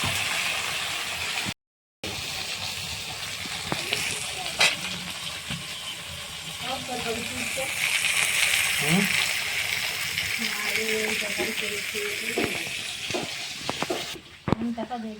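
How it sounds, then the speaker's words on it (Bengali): Katla fish heads frying in a pan give a steady sizzle with stirring clatter, while voices talk over the cooking for a Bengali katla kalia. "মাছের পিস ভাজা হয়ে গেছে, আর মাছের মাথাগুলো ভেজে নিচ্ছে।"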